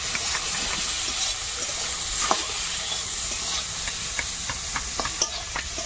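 Vegetables fry in a pan with salt, a little sugar and turmeric, giving a steady close sizzle and hiss broken by scraping clicks of stirring, with no talk.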